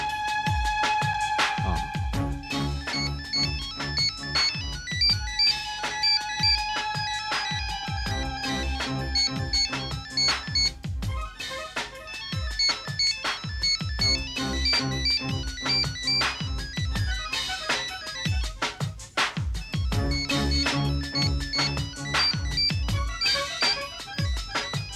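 A mobile phone ringtone plays for the whole stretch, a loud, continuous melodic tune repeating in regular phrases in an indoor scene from a Tamil crime drama, with no talking.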